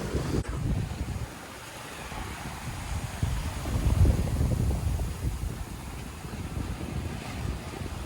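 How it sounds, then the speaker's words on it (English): Gusty, direction-switching wind buffets the microphone on a boat at sea, with a steady rush of water and surf beneath; the roar swells and eases across the whole stretch with no talking. "Really gusty though, really gusty. Wind switching directions a lot."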